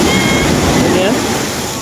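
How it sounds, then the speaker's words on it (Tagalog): Strong ocean waves crash and roar in a loud, continuous wash of surf close by, with no clear break in the noise. "Napakalakas ng alon. Ayan. Diba? Napakaingay. Galit na galit yung alon."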